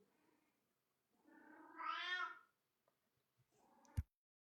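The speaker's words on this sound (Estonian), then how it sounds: "Mul kass karjub seal lihtsalt." A house cat meows loudly nearby, a drawn-out rising and falling cry, with quieter vocal sounds before and after and a sharp knock near the end.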